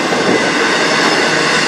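A CN freight train rolls past on the Strathroy Subdivision, a loud, continuous close rumble and wheel roar with no break and no voices.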